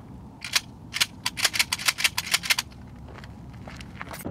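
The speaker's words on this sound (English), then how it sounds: "Going to shoot some bullets." Sharp gunshots at a shooting range, a rapid irregular string of loud cracks for about two seconds, followed by a few fainter, more distant shots over a steady background rumble.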